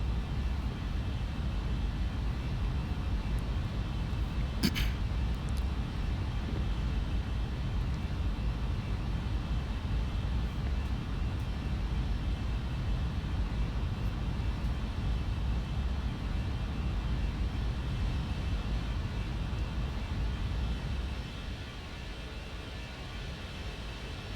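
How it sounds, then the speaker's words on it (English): Engine rumble of the Flight Factor A320 in the X-Plane 11 flight simulator: a steady, dense roar that holds evenly and then drops a little in level near the end. "That's in front of the engines and behind the engines. You can hear the rumble."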